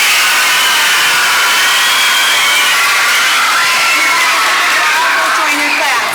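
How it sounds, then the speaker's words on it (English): Students at a school Student of the Month assembly cheer and shout as one dense crowd, a steady wash of young voices at full volume with no break across the whole stretch. "let's have one more really loud round of applause for all of our September winners"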